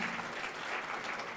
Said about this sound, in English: Can we have a big round of applause, students,